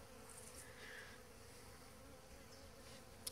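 Faint, steady buzzing of many robbing bees close by at a hive screen, a continuous hum with occasional passing individual buzzes and a small click near the end.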